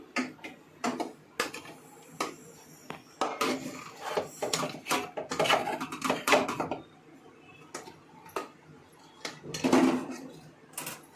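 Uncooked-rice-flour modak dough scraped from a pot into a metal paat, with irregular metallic clinks, taps and scrapes of utensils against metal, some close and sharp, spread across the moment with short pauses.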